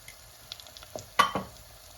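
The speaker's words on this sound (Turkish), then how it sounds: "Patateslerimi de kavurdum." Potato pieces fry in a pot as a soup base, quiet sizzling broken by a few soft scraping stirs and clinks, close and low in level.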